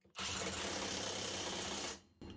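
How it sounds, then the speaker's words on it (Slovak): Parkside Performance PASSP 20 cordless impact wrench on an 8 Ah battery tightening three screws, a loud close continuous hammering burst lasting nearly two seconds, then stopping abruptly. "Teraz tie skrutky vyskúšam dotiahnuť všetky 3 s 8 Ah batériou."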